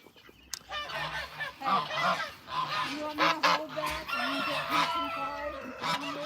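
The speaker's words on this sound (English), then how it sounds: "here comes Lurky Turkey. This is my 12-year-old turkey hen right there" A 12-year-old turkey hen at an animal sanctuary calls repeatedly at close range, giving a run of rough, warbling honks and clucks over several seconds.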